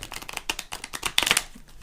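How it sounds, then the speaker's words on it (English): A deck of round tarot cards riffles and rustles softly in short uneven bursts, the papery flutter close by and fairly quiet with no talking. "Now, these have been tricky for me to shuffle."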